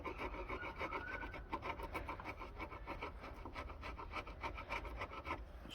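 Steady, rhythmic rasping strokes of hand sanding or rubbing down an old wooden table to strip its varnish, continuous and fairly close throughout.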